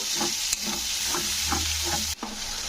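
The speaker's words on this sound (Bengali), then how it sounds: "দুটো টমেটোকে পেস্ট করে নিয়েছি তো পেস্টটাকেও তেলের সঙ্গে কষে নিতে হবে" Tomato paste frying in oil for a vegetarian kohlrabi dish is stirred in a pan, with a steady sizzle broken by regular scraping strokes of the spoon, close and moderately loud.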